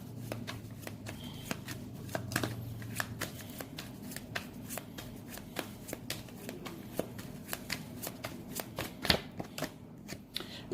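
Tarot cards shuffled close by in a steady run of crisp riffling flicks and taps for about ten seconds, with faint room noise behind and no talking.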